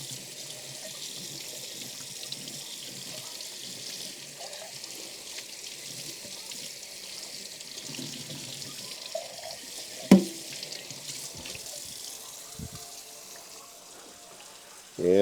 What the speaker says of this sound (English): It washes off with water.